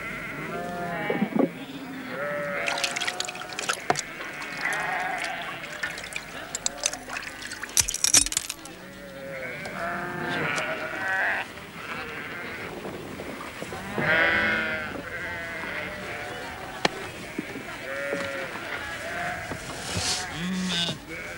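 A flock of sheep bleats repeatedly, some calls near and some farther off, during an anthrax vaccination trial on a farm, while people talk in between.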